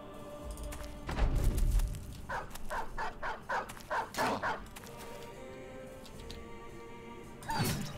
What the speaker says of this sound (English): These dogs are gonna catch me